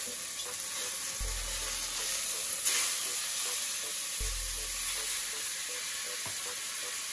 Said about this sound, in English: All right, so now I'm gonna flip my steak.